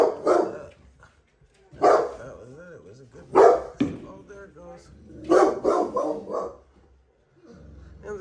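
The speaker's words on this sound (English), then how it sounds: "dogs are freaking out." Neighbors' dogs barking early on a New Year's morning, several loud close barks in irregular bursts with pauses between, some yelping, alone without talk.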